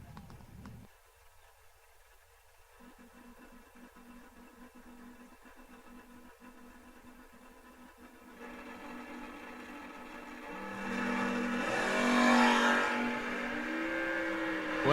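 A third-generation Camaro drag racing at a memorial race meet, heard as a distant engine hum that swells into a loud roaring run and then stays strong, with no talk.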